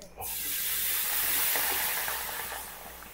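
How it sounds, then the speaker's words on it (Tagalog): Sprite soda poured into a hot pan while cooking chopsuey with pork liver sends up a loud, sustained sizzling hiss that starts abruptly and slowly fades. "Ibuhos natin sa kawali."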